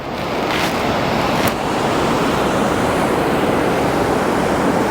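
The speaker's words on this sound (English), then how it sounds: "But I'm loving the sound of the water." Loud, continuous rushing water from a river along the Everest Base Camp trek between Phakding and Namche Bazaar fills the whole span as a steady roar, with no voices.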